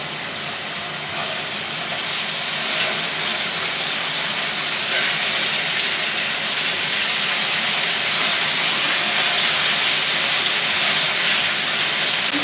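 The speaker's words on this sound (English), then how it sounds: "ooh, that's a good sizzle right there." Food sizzling in hot oil in a pan, a loud continuous hissing crackle that holds steady throughout, up close with no talking.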